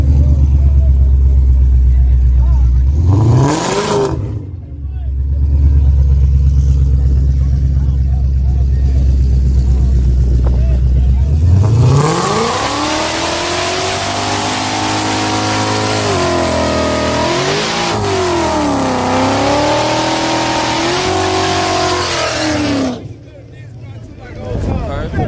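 A Tesla and another car in a street race: a loud engine drone holds, dips and surges into a rising rev, then a long accelerating roar that climbs and wavers before cutting off, with people talking over it.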